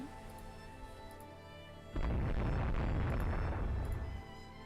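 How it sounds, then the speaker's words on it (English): Bombardment of an air base in the naval strategy game Rule The Waves 2: after a quiet hum, a loud sustained rumbling barrage of explosions erupts and rolls on for a couple of seconds before fading back. "Oh, they're bombarding the air base."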